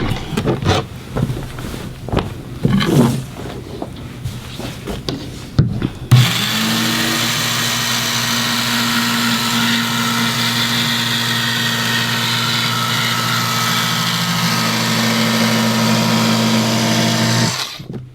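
A rotary cutter run through fabric for welt cord gives a steady, loud mechanical whir that starts suddenly after some handling noises and holds evenly for over ten seconds.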